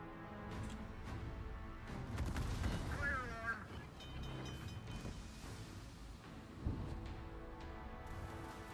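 Naval guns fire in a World of Warships battle: booming salvos and impacts thud over a rumbling ship-engine bed, with someone talking excitedly on top.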